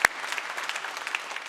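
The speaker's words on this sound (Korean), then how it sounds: "아우리시 팀에게 격려의 박수 부탁합니다" Audience applause for a church mission team during a Sunday worship service, a brief steady burst of many hands clapping throughout.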